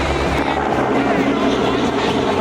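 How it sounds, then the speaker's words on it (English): Helicopter setting down close by, a dense, loud rotor roar with rapid beating throb that fills the whole moment and then cuts off abruptly. "They literally dropped the helicopter right in front of us to give us energy drinks, merch."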